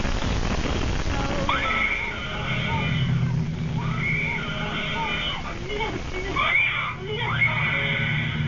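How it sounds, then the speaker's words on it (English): A girl's piercing, high screech rings out at night in a bedroom, sharp and loud over a droning background with screamy overtones repeating in bursts. "her daughter lets out a piercing screech"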